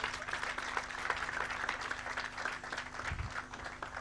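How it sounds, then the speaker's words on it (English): An audience at an International Youth Day 2024 event applauds to welcome a speaker, a dense steady patter of many hands clapping over a low hum, fairly distant. "Let's clap for her."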